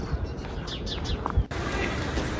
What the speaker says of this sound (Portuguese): tá ouvindo os passarinhos?